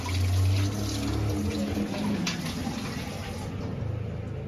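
Raw fish for a curry is scrubbed and rinsed under running water, a close, steady splashing and trickling stream with light rubbing under it, continuous throughout.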